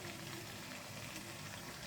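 Mutton curry with tomato and whisked yogurt fries in oil, a steady close sizzle and stirring throughout, ending in a brief sharp knock.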